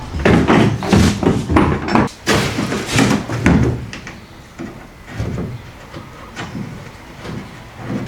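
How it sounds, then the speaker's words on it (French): A BMW E90 car door, being refitted near the end of a restoration, is opened and shut several times, with loud thumps and latch clatter in the first few seconds, then quieter handling noises. "On va essayer la porte aussi, voir si l'ajournement est bon"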